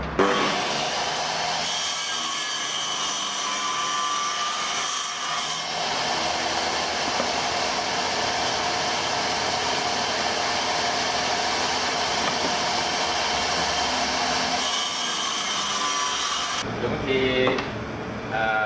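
A high-pitched wood trimmer whines continuously as it cuts through wood, loud and close, briefly dipping in pitch before stopping near the end.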